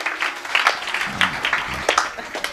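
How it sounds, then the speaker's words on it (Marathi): A kirtan audience claps together in a steady, rhythmic beat, the claps crowded, fairly loud and evenly paced throughout the short stretch. "छान छान वाजवा टाळी जरा जोरात."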